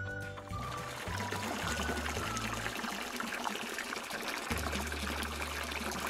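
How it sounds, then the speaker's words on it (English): Water trickles and pours steadily from a toy kitchen sink, close and fairly quiet, with a low motor-like hum underneath. "Let's get the water running."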